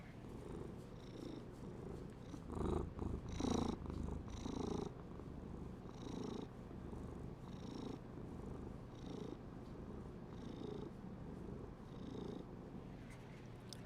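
A cat purrs steadily while being petted, a close, continuous low rumble with a soft rhythmic pulse and occasional brighter breathy bursts, with no talking.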